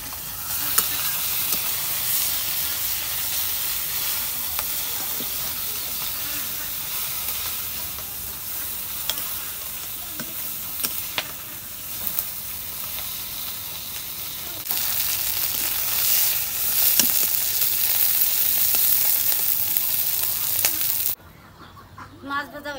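Rui fish frying in a pan, a steady broadband sizzle lasting throughout with occasional spatula scrapes, louder in the latter part before cutting off near the end.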